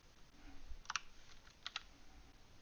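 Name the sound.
computer keyboard key press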